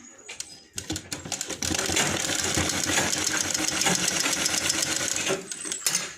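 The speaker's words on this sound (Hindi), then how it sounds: "इस तरह पलटने के बाद इसके ऊपर एक फिनिशिंग वाली सिलाई चलाऊँगी" An electric sewing machine runs a finishing seam along a lined blouse, its steady rapid needle chatter loud and close, starting with a few short bursts before settling into one long continuous run that stops near the end.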